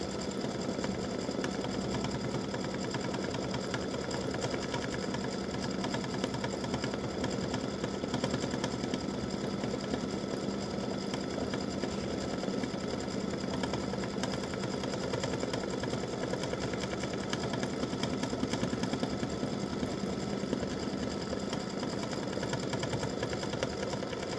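An embroidery machine stitches a hibiscus design in an edge-to-edge butterflies and hibiscus pattern, a steady, close, mechanical whirring and rapid needle clatter running without a break and without speech.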